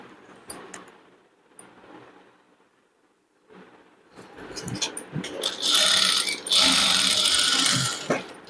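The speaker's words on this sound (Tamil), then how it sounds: "இதுலேயே அட்டாச் பண்ணி தைச்சிட வேண்டியது தான்" A sewing machine stitches tape onto fabric, starting as faint handling noises and quiet clicks, then running in a loud, close, rapid mechanical whir for the last few seconds.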